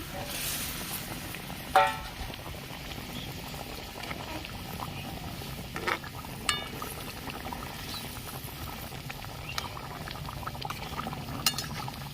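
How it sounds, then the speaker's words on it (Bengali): Shredded cabbage goes into boiling vegetable broth in a pot, giving a steady low bubbling and simmering with a few soft knocks and splashes. "ঝোলটা ফুটে গেছে আমি এবার বাঁধাকপিগুলো দিয়ে দিচ্ছি"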